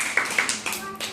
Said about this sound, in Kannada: ಚಪ್ಪಾಳೆ ತಟ್ರಿ ಜೋರಾಗಿ.